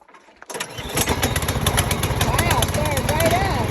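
A small engine with its choke set starts on the first try: a quiet lead-in, then it catches and settles into a loud, steady rattling idle close by.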